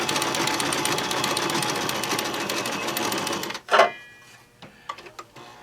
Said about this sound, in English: Now the machine is going to go forward and reverse, and all the parts inside are moving